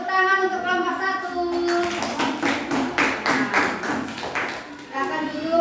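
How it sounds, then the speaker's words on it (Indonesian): Fifth-grade pupils in a classroom clap together for a group after a teacher's voice, a dense burst of many small hands that lasts a few seconds and then fades as the talking resumes. "beri tepuk tangan untuk kelompok 1"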